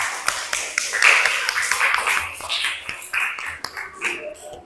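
A small classroom group claps hands, scattered and irregular at first and then settling into quicker applause, with voices murmuring underneath.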